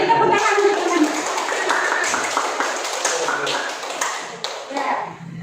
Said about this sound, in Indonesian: Beri tepuk tangan untuk teman.